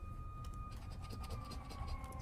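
A distant emergency siren wails in the background behind a steady bed of noise and faint clicking, sustained and moderately quiet throughout.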